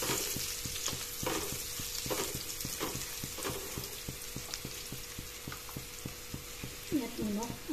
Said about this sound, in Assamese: সয়াবিনখিনি প্ৰথমতে অলপ ভাজি লম মই